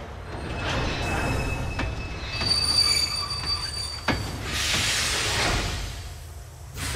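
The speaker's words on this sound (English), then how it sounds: "The ghost train." Ghost train wheels squeal in Kingdom Hearts 2, loud, sustained, high-pitched metallic screeching over a rumbling rolling train, with a few sharp clanks.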